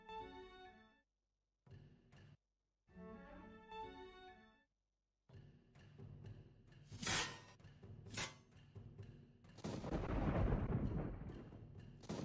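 A video game shot lands nearby: heavy booming impacts with a deep rumbling, noisy tail, following a stretch of tonal game sounds, loud and close with no talking.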